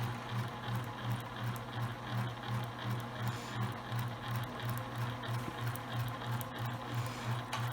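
A home sewing machine stitches fabric for a face mask with a steady, rapid mechanical whir and rhythmic needle clatter, close and moderately quiet, running continuously without speech.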